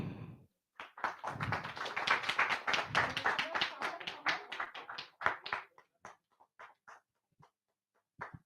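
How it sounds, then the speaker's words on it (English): An audience claps during a felicitation at a literature talk, a burst of close, crisp hand claps that thins out into scattered individual claps and then silence. "Clapping should not stop."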